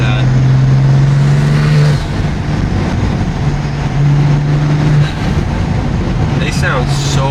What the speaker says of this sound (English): I'm gonna use this one to capture the sound of the intakes because it's nutty